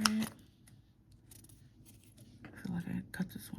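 Big scissors snip paper for a frame box, a couple of quiet cuts under soft, close speech, with rustling handling of the paper near the end.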